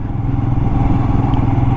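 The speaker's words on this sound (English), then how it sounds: "The engine feels surprisingly smooth as well." A Royal Enfield Himalayan engine runs steadily at low revs in a higher gear, a continuous loud, close rumble with an even thrum throughout.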